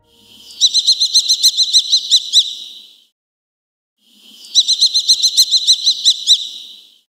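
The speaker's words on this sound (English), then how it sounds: "Here is what a kestrel sounds like." Two bursts of rapid, high-pitched repeated calls, each a quick series of sharp notes rising then fading, separated by a short silence.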